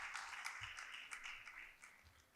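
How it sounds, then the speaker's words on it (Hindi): An audience at a Urdu poetry bait bazi competition applauds the visiting teams with a faint, distant patter of many hands that runs steadily and briefly. "सो सबके लिए एक दफ़ा तालियां ज़रूर बजाइए।"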